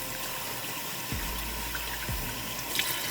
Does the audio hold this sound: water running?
yes